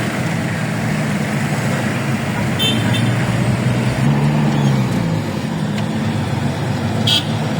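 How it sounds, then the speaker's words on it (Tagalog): Road traffic on a busy street near Commonwealth rolls past as a steady loud rumble of engines and tires, with brief car horn toots cutting through now and then. "Dami sasakyan yata ngayon"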